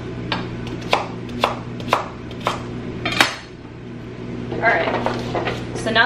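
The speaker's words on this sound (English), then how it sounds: "let me just chop these up" Kitchen knife chopping vegetables with the skin on against a cutting board, about six sharp, evenly spaced chops followed by quicker light scraping and cutting, over a steady low appliance hum.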